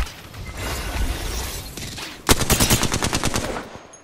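Video-game gunfire rattles in a rapid automatic burst of evenly spaced loud shots after a stretch of busier in-game noise and mechanical clatter.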